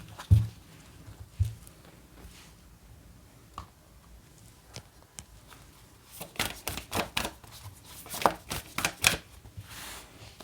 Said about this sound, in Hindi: मैं ये कार्ड्स हटा देती हूँ, थोड़ा साइड कर देती हूँ